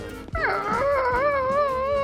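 A dog lets out a close, loud, wavering howl that slides into a whining whimper, lasting about two seconds.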